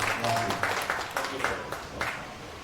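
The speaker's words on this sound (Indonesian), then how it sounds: "Tepuk tangan untuk semuanya." Audience clapping at a church breakfast meeting, a mid-level scatter of hand claps that comes in uneven bursts over about three seconds.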